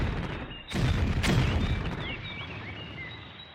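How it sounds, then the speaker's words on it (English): A sharp, loud explosion rings out in a cave, followed by a second burst and a lingering rumble that slowly fades, with high chirping sounds in the background. "A loud explosion followed, and then a few smaller ones."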